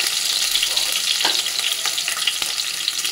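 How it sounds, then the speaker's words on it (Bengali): Dried whole red chillies, whole garlic and chopped ginger sizzle in hot oil in a pan, a steady crackling hiss with occasional sharper pops and stirring. "শুকনো লঙ্কাটা একটু ভাজা ভাজা হয়ে গেলে দিয়ে দেবো গোটা রসুন আর একটু আদা কুচিয়ে রেখেছি সেটা"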